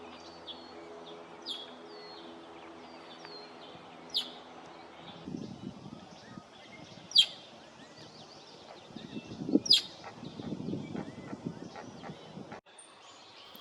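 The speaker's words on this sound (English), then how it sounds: "One of the calls of the red-winged blackbird that we had seen earlier on the boardwalk." A red-winged blackbird calls at the Clifford E. Lee Sanctuary in Alberta, Canada, with several short, sharp chirps spread over the clip against a quiet outdoor wetland background. Other soft rustling comes and goes, and no one speaks.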